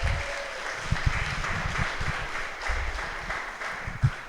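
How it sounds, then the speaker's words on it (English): A small audience gives a round of applause for a speaker's family, scattered claps in an uneven patter that holds steady at moderate loudness, with one sharper clap near the end. "You can give them a round of applause for coming today."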